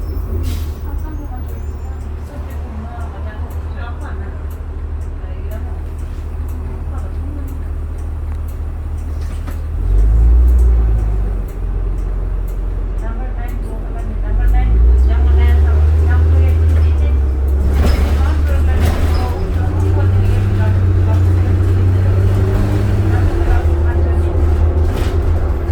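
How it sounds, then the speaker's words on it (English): Calgary Transit 2005 New Flyer D40LF city bus, number 7947, pulling away from a stop with a loud, rising low diesel drone that builds and holds, heard from onboard with faint chatter in the background. "Bus is good on takeoff, that's for sure."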